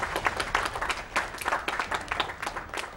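Live audience applauding a Metal Gear Rising: Revengeance speedrun trick at a charity gaming marathon, a loud dense burst of many hands clapping that carries through to the end.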